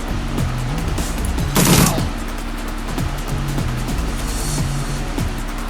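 Gunfire in the video game Shadowrun Returns, a close burst of rapid shots followed by scattered single reports over a steady droning background score, with no talk.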